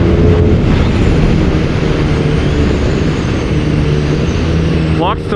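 A steady, loud engine drone from a BMW R nineT motorcycle with stock exhaust while riding, heavily mixed with wind rush, with a short burst of rising pitch near the end.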